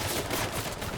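Rapid gunfire from the survival video game H1Z1, a dense continuous burst of shots filling the whole moment with no talking over it.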